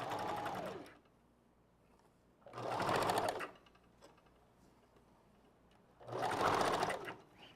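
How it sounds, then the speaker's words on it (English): A sewing machine back stitches a wig piece in three separate bursts of close, rapid mechanical whirring, divided by quiet pauses. "we're gonna back stitch that and then come off and then just go right back in it with the new piece"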